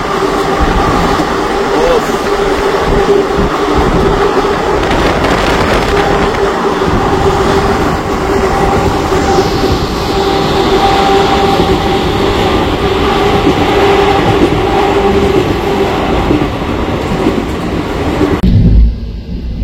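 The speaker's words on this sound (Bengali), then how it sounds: "Malda town Howrah intercity express যাচ্ছে।" Malda Town–Howrah Intercity Express train passing close by, a loud continuous rolling rumble and rail roar that holds steady for nearly twenty seconds before cutting off abruptly.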